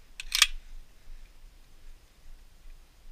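A single camera shutter release fires as a test, a brief crisp mechanical click burst near the start, then only faint room hiss.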